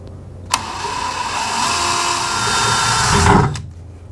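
A power drill bores a hole through the hood of a Jeep JK, a steady high whine running about three seconds close to the microphone, starting abruptly and cutting off sharply at the end.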